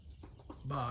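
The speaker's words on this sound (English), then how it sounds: "Now I got 2 chickens fighting over the same" Agitated clucking from a pair of hens squabbling over the same nesting box nearby, short harsh calls rising into a louder squawk at the end.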